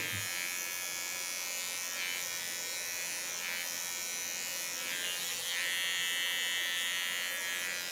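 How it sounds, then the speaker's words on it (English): Steady high-pitched buzzing of a small electric hair clipper runs without pause, close by and even in loudness, with no voices. "because it's a small clipper. But the sounds are the same."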